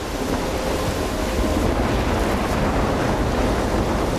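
Thunderstorm in the video game Life is Strange, a loud, continuous roar of wind, rain and rumbling thunder with surf-like washes near the coast, with no speech.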